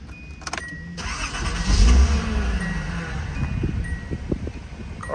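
A 1983 Datsun 280ZX with original 57,714 miles cranks and fires up, then settles into a steady, fairly loud running engine note close by, with a brief surge partway through.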